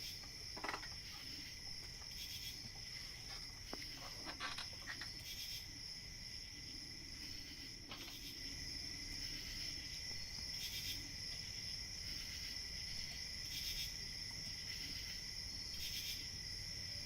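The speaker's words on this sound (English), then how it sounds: "Are those crickets like you're playing the crickets, or is that part of the movie?" Crickets chirp in a steady, faint background chorus of high, pulsing trills that carry on unbroken throughout.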